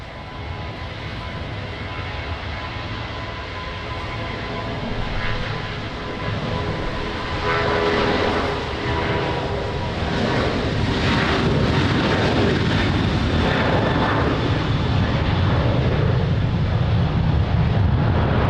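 A Ryanair airliner takes off at Lisbon Airport in the rain, a loud, steadily building jet roar that rises and holds over almost twenty seconds, heard from a distance without voices.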